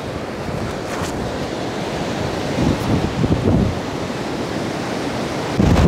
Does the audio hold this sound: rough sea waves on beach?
yes